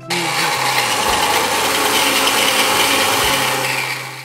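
A kitchen mixer's slicing attachment cuts raw plantain into even rounds for chips, giving a loud, steady motorized whir with a gritty rubbing edge that runs without pause.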